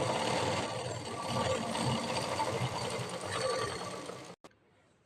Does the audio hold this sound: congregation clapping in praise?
no